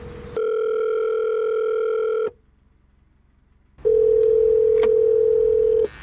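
Outgoing telephone call ringback tone: a steady electronic tone plays for about two seconds, pauses in near silence, then sounds again, loud and close with no voices.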